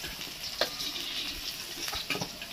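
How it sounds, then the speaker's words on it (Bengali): Potatoes fry in hot oil for a fish curry, a soft steady sizzle broken by a few brief stirring scrapes and crackles, close and fairly quiet, with no talking. "আলুগুলো দেখো একদম লাল করে ভেজে নিয়েছি"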